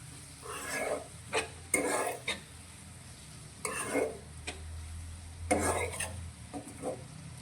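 A green onion curry is stirred and mixed in a pan: a few separate scraping strokes of a spoon, close and moderately loud, with a low sizzle between them and short pauses.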